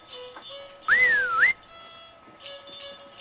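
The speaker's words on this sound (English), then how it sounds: "and to his team he gave a whistle" A rising and dipping whistle given to a reindeer team in a Christmas Eve reading, a single clear gliding note lasting about half a second over a quiet background.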